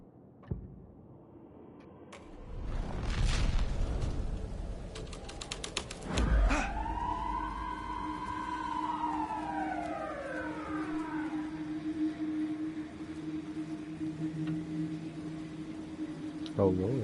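A police car siren in the video game Alan Wake 2 rises and falls in a long, loud wail over a dark ambient bed, sweeping up then down before settling into a steady hum; a sharp crash comes just before it.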